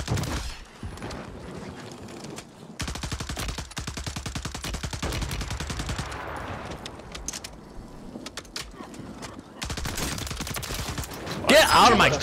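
Automatic gunfire rattles in rapid bursts during a ranked multiplayer shooter match, loud and close, with stretches of fast rhythmic shots broken by short pauses and a heavier burst at the end.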